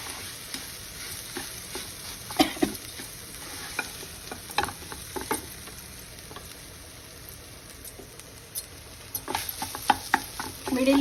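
A ground chickpea mixture with salt is stirred in a pan on the stove for sanagala patolli, giving soft scraping strokes and faint sizzling that come in irregular bursts, close by, with no talk.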